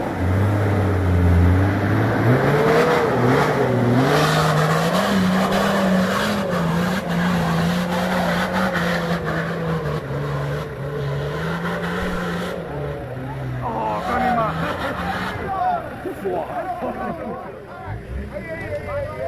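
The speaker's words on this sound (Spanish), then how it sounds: "Cuidado que hay un coche arriba, eh." An off-road 4x4 engine revs hard during an extreme climb, its pitch wavering up and down for several seconds before fading into scattered noise, with people shouting and talking over it.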